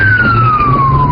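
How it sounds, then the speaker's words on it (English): Police car siren wailing loudly and close, a single steady tone sliding gradually downward, recorded from a police vehicle racing to a house, with engine rumble underneath. "The sound of the police siren was recorded by a Paradise police officer racing to the house."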